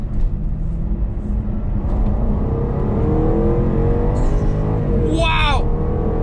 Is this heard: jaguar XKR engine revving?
yes